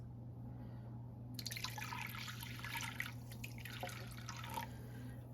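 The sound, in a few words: pouring chicken broth into a slow cooker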